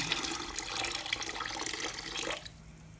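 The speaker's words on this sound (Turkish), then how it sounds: "Koyuyoruz suyumuzu." Water pours into a container of wall paint in a steady, gentle splashing stream that stops abruptly near the end, with no talking.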